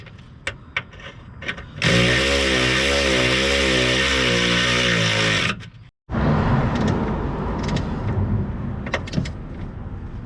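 Bolts on a Fiat Panda 4x4 anti-roll bar bush bracket are driven in by a power tool in two long, loud, close bursts, with a few sharp clicks and knocks before and between them.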